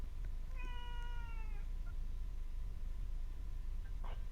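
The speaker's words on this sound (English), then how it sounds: "Oh, now mine's meowing." A cat gives a single clear, drawn-out meow, fairly near but moderately quiet, over a steady room hiss, followed by a few faint clicks and a brief rustle.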